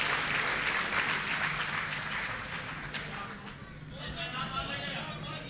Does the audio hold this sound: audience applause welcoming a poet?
yes